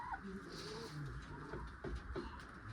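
A low, throaty cooing comes from Malawi Jor pigeons, a yellow-eyed hen among them, in a few short, soft phrases against quiet background noise.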